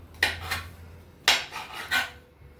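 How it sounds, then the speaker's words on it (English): Mushrooms and onions sauté in a pan, heard as three separate loud metallic scrapes and clatters with short gaps between them, close up and without speech. "saute these mushrooms and onions"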